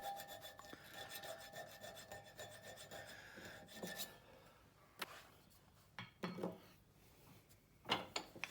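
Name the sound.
metal casting edges being filed with a hand file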